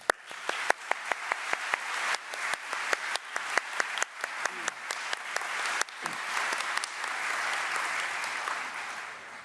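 An indoor audience at a science lecture and debate applauds warmly to welcome a speaker, with dense, steady clapping and a few sharper individual claps standing out, sustained for several seconds.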